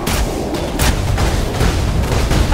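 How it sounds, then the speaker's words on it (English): Dense, loud bursts of explosions in the Path of Exile video game, booming continuously in rapid overlapping blasts with no pause. "Too many explosions."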